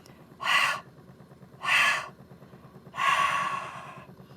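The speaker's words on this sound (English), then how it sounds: "maybe you can force a little more breath out" Three breathy exhales pushed out through the mouth, close and fairly soft, the last one longer and trailing off.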